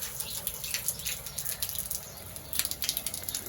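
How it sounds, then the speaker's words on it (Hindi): Water overflowing from a filled rooftop water tank, falling in a steady splashing stream with patters and drips, fairly faint and continuous, with no one speaking. "ऊपर से जो है ना पानी गिर रहा है।"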